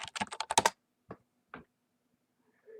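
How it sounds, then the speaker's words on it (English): Quick typing on a computer keyboard while searching for M.2 drives, a short burst of close key clicks followed by a few isolated taps, with no talk. "let's just type in M.2s real quick up here"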